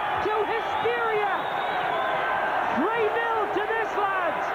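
Darts crowd at a 1986 Scotland versus England home international erupting in cheers after a winning throw, a loud continuous roar with whoops and shouts, an excited commentator's voice rising over it.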